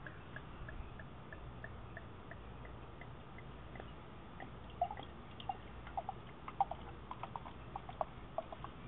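Dogfish Head Sah'Tea beer poured into a glass, heard as soft, faint liquid trickling with scattered small drips and fizzy ticks that become more frequent toward the end, with no talking.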